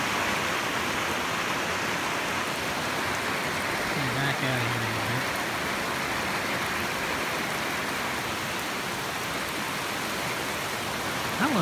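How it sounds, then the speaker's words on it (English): Heavy rain pours down outside a house during a storm, overflowing the gutters; a steady, dense broadband hiss runs unbroken throughout, with a brief faint voice partway through. "it is pouring rain. I'm sure you can hear it."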